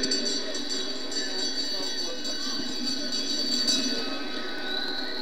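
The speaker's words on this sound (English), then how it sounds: "Bell this time, 1 lap away from sprint number 2." Lap bell ringing at a junior world championship track cycling race, a steady metallic ringing sustained over a noisy velodrome crowd and announcer commentary.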